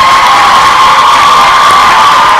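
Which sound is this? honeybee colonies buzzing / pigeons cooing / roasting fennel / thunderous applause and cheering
thunderous applause and cheering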